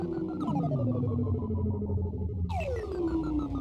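A synthesizer patch on a Fred's Lab Manatee, made from a sitar sound, drones with a twangy, plucked timbre, gliding, bending pitches and a heavy effects wash, sounding twice in long sweeps.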